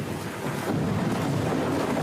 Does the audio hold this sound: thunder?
yes